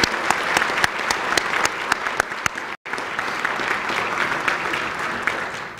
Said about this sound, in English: Please, a nice round of applause for this dynamic group